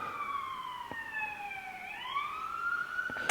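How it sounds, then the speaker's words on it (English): A wailing siren sweeps down and then back up in pitch, steady and fairly loud, with a faint click or two and no talking. "I apologize if you guys hear sirens"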